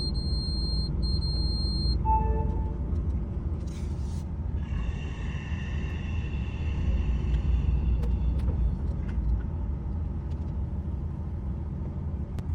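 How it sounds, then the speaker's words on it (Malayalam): A loaded-goods truck is driven off toward parking, its engine giving a steady, loud low rumble throughout, with a few faint beeps and tones over it. "ഇവിടുത്തെ ലോഡ് ക്യാൻസൽ ചെയ്ത് നമുക്കിനി വണ്ടി എടുത്തിട്ട് പാർക്കിങ്ങിൽ കൊണ്ടുവിടാം"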